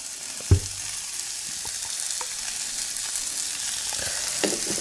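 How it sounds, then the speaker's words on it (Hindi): Masala spices and peas sauté in a pan over a medium gas flame, giving a steady soft sizzle with an occasional clink of stirring. "मसालों को हम अच्छे से भूनेंगे ताकि मसाले का कच्चापन निकल जाए"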